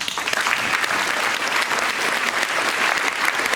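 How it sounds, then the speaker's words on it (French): Applause from the audience at a New Year's address in a French town hall, a thick, even wash of many hands clapping close and loud throughout, with no voices over it. "Vous pouvez l'applaudir."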